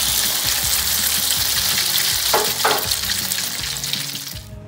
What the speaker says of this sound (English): we just want to fry the beef for about 3 or 4 minutes